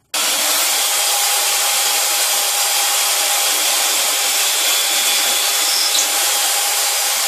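An electric drill boring a hole into a piece of wood, with a loud, steady whirring grind that starts abruptly and runs unbroken for several seconds.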